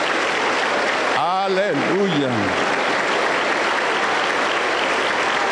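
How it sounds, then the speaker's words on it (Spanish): A church congregation applauds in praise of Jesus, a steady dense wash of clapping that runs the whole time, loud and close. A voice calls out briefly partway through. "Aplauso para el Señor Jesús."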